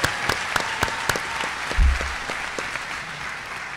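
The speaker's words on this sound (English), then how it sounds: "Let's give her a round of applause." A graduation audience applauds in a steady, dense clatter of clapping that fills the room and slowly tapers, with no talking.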